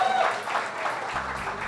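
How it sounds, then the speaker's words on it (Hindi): An audience at a film star-cast event applauds as guests are welcomed on stage, a brief, moderate burst of clapping with voices mixed in. "अबे तालियां तेज."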